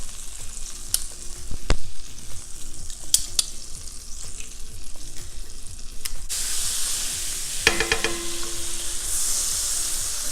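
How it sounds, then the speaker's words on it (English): Garlic and onion sautéing in melted butter in a pan, a steady crackling sizzle with occasional clicks and utensil taps, swelling into a louder hissing fry partway through, close and without speech. "Garlic sauteing and onion sauteing, so good."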